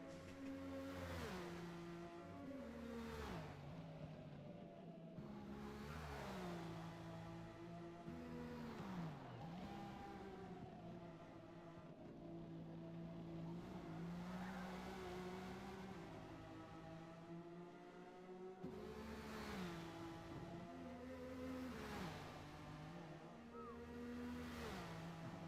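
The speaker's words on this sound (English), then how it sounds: "just listening to this car run down this track" A race car engine in the Forza video game roars steadily down a track, revving high in long sustained pulls, dipping briefly between gears, loud and continuous.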